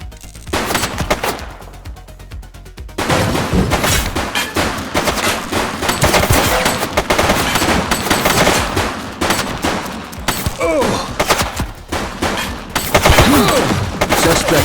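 Repeated gunfire bursts and rapid shots from the police game The Precinct fill most of the stretch, loud and dense after a brief quieter opening, with a voice occasionally calling out over the shooting.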